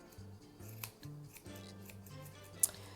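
Scissors snip a fuzzy yarn pom-pom being trimmed on a loom, a quick close cut standing out over a low steady hum in the background.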